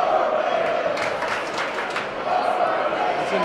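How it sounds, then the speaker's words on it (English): A high school boys basketball crowd roars and chants steadily in a gym, a dense, loud wash of voices rising and falling throughout. "PW crowd is getting loud."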